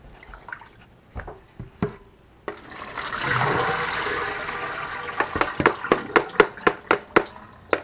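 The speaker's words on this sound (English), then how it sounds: "we're going to rinse these potatoes probably 3, 4, 5 times until the water is absolutely clear" Running water splashes steadily in a sink for a few seconds while potatoes are rinsed, followed by a series of sharp, regular knocks or taps.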